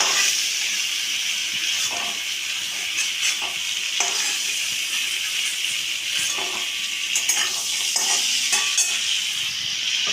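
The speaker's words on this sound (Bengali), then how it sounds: "আমি আরেকটুখানি সামান্য তেল দিলাম" Oil sizzles loudly and steadily in a pan while shrimp cook for a banana-blossom curry, with intermittent scraping stirs of a utensil close by, and no talking.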